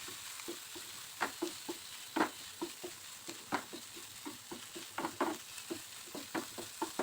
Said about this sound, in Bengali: এবার এই তেলের মধ্যে লইটা শুটকিগুলো একটু লবণ দিয়ে ভেজে নিব